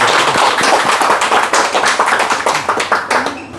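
A small crowd gathered in a Busan restaurant on a Sunday morning claps close by, with individual hand claps distinct in a loose, uneven rhythm that tapers off.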